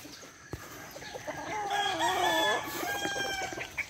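Chickens clucking and calling close by on a farm, a rising, warbling fowl call in the middle with softer clucks around it, fairly loud with little else behind.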